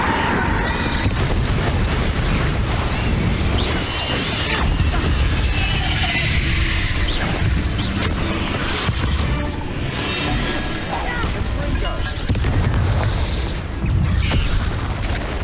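Loud, dense spell blasts from the game Hogwarts Legacy in a catacomb fight, continuous booming explosions, crashes and bursts layered over one another without a break.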